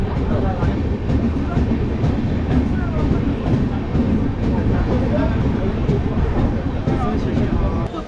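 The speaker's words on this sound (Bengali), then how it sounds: "ট্রেন এসে পৌঁছলো নবদ্বীপ ধামে।" Passenger train pulling into Nabadwip Dham station at night, a loud continuous rumble with rhythmic rail clatter and car noise filling the whole stretch, close and steady.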